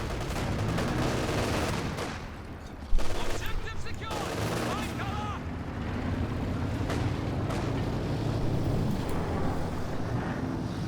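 A walking Stuka rocket barrage in a Company of Heroes match sends heavy explosions thumping amid the rumble of battle, with a sharp blast standing out early, while commentators talk over the action.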